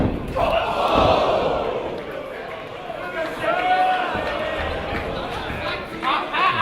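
A wrestling crowd roars and cheers in a large arena, a broad sustained swell peaking early and continuing under a commentator's voice.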